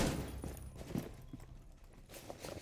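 Gunfire in the video game Rainbow Six Siege during a competitive semifinal match, a quick scatter of faint, distant cracks and thuds within background game noise.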